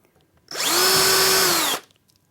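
A cordless drill drills a hole during base-unit furniture assembly, whirring loudly for just over a second at a steady high pitch, then winds down and stops.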